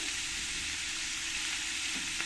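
Rui fish belly pieces fry in oil with a constant, dense sizzle that stays even and close throughout, with no talking.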